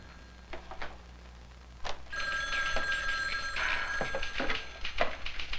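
A telephone bell rings in bursts, loud and close, with a couple of short clicks and knocks before the ringing starts.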